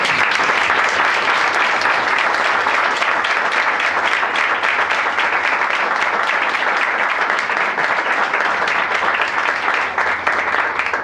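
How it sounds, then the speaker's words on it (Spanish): A congregation applauds at a church's seventh anniversary celebration, giving loud, sustained clapping from many hands that stays even and full throughout with no pauses. "Le dan un aplauso al Señor por eso."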